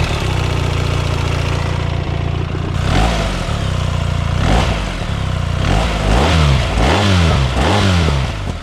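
A BMW R1300 GS Adventure motorcycle fitted with an Akrapovic exhaust revs loudly and up close, climbing in repeated sharp blips after a steady idle, with no talking over it.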